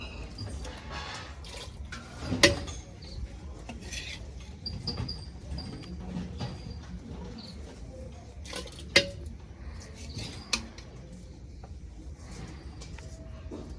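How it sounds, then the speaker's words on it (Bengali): Fried vegetables tipped into a pot of khichuri cooking outdoors on a winter night, faint wet stirring and soft shuffling broken by a few sharp metallic clinks of a ladle against the pot. "এবার এই সবজি ভাজা সবজিটা দিয়ে দেবো।"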